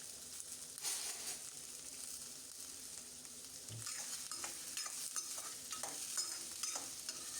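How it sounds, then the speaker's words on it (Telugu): Onions, curry leaves and green chillies fry with mustard seeds in hot oil, giving a steady close sizzle with scattered crackles and pops and light stirring scrapes throughout. "ఆవాలు, జీలకర్ర వేగిన తర్వాత ఇప్పుడు ఇందులో మనం ఇవి కరివేపాకు, పచ్చిమిర్చి ఇంకా కట్ చేసి పెట్టుకున్న ఉల్లిపాయ ముక్కలు."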